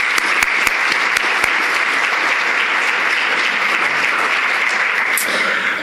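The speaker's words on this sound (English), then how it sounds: "So please join me in giving one final round of applause for Tyne." An audience at a summit's closing session gives sustained applause, a dense, even wash of many hands clapping that stays loud and unbroken throughout with no voices over it.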